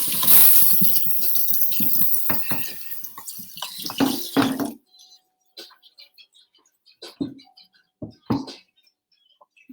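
Running tap water rinsing something in a kitchen sink during brunch cooking, a steady close splash that stops midway, followed by scattered light clinks and knocks.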